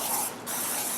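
Crisco butter-flavor nonstick spray is sprayed onto an electric skillet, giving a close, continuous hiss that dips briefly partway through, with no voices.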